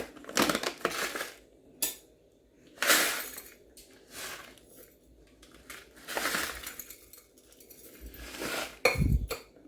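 Rock salt is tipped into a container in several separate bursts of gritty, rattling clinks, close and fairly quiet, with short gaps of near silence between them.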